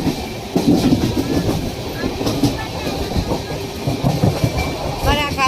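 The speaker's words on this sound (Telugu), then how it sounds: "అక్కడ వీడియో రికార్డ్ చేస్తుంటే ట్రైన్ వచ్చింది" A train rolls past near a small village, loud rumbling and rhythmic clickety-clack of wheels on rail joints, with some squealing toward the end, steady and close throughout.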